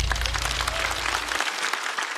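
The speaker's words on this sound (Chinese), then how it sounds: "来，掌声送给虎牙。" Applause from a stand-up comedy show audience, a dense wash of clapping that carries steadily through the whole clip, loud and close, with the low room rumble falling away midway.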